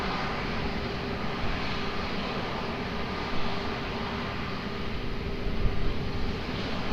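Steady broadband roar of an Embraer 190 jet at Lisbon Airport, heard from a distance as a continuous engine rumble with a slight swell toward the end and no voices.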